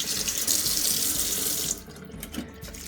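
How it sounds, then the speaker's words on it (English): Cold water runs from a kitchen tap to rinse cooked pasta for a salad, a steady close splashing rush that cuts off partway, leaving faint drips and small handling sounds. "to rinse our pasta with some cold water just to cool it down"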